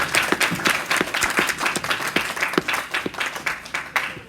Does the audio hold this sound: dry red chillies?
no